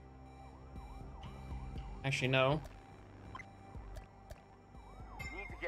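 An ambulance siren in the firefighting video game Fire Commander wails in repeated rising and falling sweeps at moderate volume, mixed with game sounds and a brief spoken voice.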